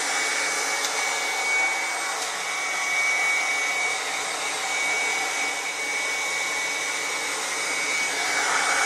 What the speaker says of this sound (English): I'm going to bring the heat gun in closer.